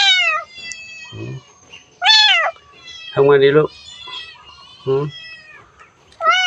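A lonely cat meows repeatedly up close, loud drawn-out cries in several separate bursts with pauses between, while someone speaks softly in between.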